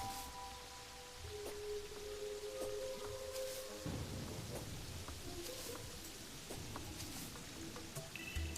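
Rain falls in the video game Terraria, a soft steady hiss with low rumbling beneath and faint in-game tones and clicks, quiet throughout.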